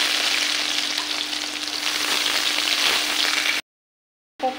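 Cumin, two dried red chillies and chopped onion fry in hot oil with a dense, continuous close sizzle that cuts off abruptly into silence, then briefly returns.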